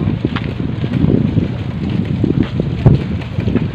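Steady, gusty wind rumbles and buffets the microphone at a fishing area in Harvey Bay, a constant low roar with occasional stronger bursts and no voices.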